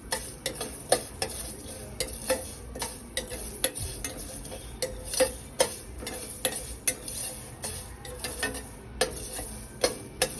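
Mustard seeds roast in a dry pan for elephant-foot yam chutney, with a steady run of close, crisp ticks and scrapes from stirring repeating through the whole stretch and no voices.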